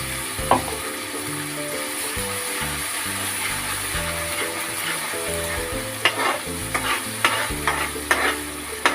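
Ground onion masala paste fries in a kadai with a steady broadband sizzle, while scraping stirs and clinks punctuate it near the end.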